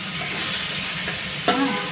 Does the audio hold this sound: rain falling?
no